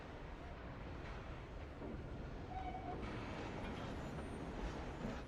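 A steam-era train running in Assassin's Creed Syndicate in Victorian London, a continuous rolling rumble and rattle of the carriages at moderate level, with a brief tonal note partway through.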